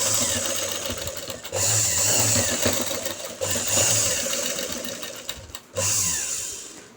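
A sewing machine runs fast and close, stitching a fall along the edge of a saree, in several sustained whirring runs separated by short pauses.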